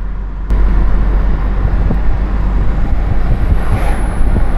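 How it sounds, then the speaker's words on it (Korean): Steady low roar of passing road traffic, a continuous rumbling wash of engines and tires with no voices. "고프로는 자동차 소음이 적게 들립니다."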